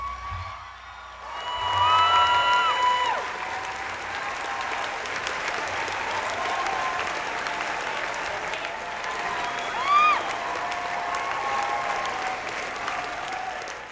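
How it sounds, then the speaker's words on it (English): Graduation crowd at a high school commencement applauding steadily throughout, with scattered whoops and cheers rising above the clapping, loud and sustained. "give yourself a giant round of applause"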